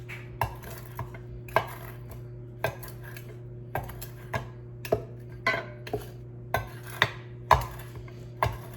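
Saffron threads crushed with the small end of a kitchen utensil against a hard surface, giving a steady series of sharp clinking taps about every half second, close and clear with no talking.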